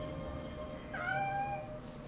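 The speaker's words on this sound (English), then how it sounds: "Of course, she's a cat." A cat meows once in a short, rising, clear call over a steady low background, with no talking around it.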